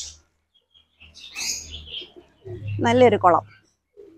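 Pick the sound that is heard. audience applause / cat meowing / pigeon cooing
pigeon cooing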